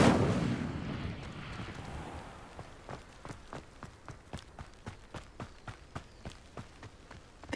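An Incendio fire spell in Hogwarts Legacy bursts with a loud whooshing blast at the start, fading into a steady series of sharp rhythmic thumps and crackles that repeat evenly for several seconds.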